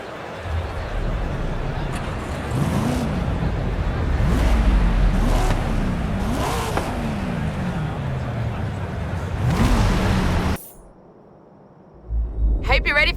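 Chevrolet Corvette engine in Forza Horizon 5, a loud sustained roar with repeated rising and falling rev sweeps over game music and effects, cutting out abruptly near the end before sound resumes briefly.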